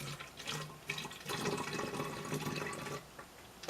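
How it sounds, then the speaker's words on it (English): Filtered water is poured into a spray bottle inside a pet cage, a quiet, steady splashing trickle lasting a few seconds. "Just pour some water into the spray bottle."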